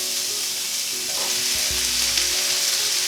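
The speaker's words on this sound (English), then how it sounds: "So straight away that's sizzling, and obviously that's down to all the sort of liquid that's in those." Shredded jackfruit sizzles loudly and continuously as it fries in a hot pan, with a brief clatter of stirring partway through.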